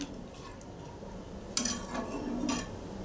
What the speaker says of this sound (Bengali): তখন একটু নেড়ে নিচ্ছি।